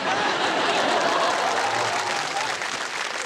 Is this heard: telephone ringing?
no